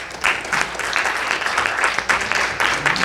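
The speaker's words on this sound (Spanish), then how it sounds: "Vamos a dar un fuerte aplauso al Rey de Reyes." A church congregation claps together in praise, a dense, loud, continuous round of applause filling the room without talk over it.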